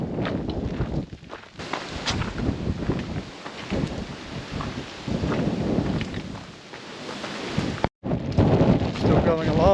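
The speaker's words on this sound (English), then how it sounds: "still windy, the rain's dropped a little bit, still pretty exposed" Wind and rain buffet exposed Stuart's Pass on the Larapinta Trail, a rough continuous rushing with gusty swells, while a person speaks over it.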